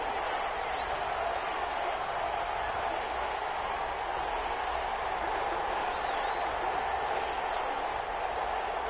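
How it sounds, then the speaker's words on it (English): Stadium crowd in a PS4 American football game, a dense continuous roar of cheering that stays loud and even throughout. "the crowd getting into it as we come up on a big 3rd down"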